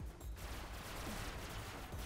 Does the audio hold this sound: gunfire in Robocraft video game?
yes